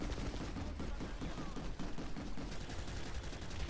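Rapid, dense gunfire from the sci-fi shooter PlanetSide 2, volleys of shots overlapping into a continuous loud fusillade that runs throughout with no pauses.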